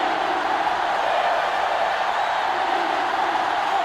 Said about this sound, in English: This crowd is almost shaking the stadium.